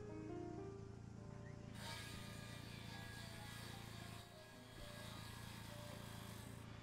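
Steady broadband rasp of wood being sanded in the farming game Ranch Simulator, starting abruptly after a short quieter lead-in and running continuously and close over a constant low background hum, with one brief dip near the end.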